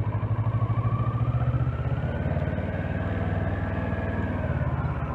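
A Kawasaki Versys 650 motorcycle chugs along at low speed while turning at full lock, its engine a loud, steady, close rumbling idle-like beat throughout.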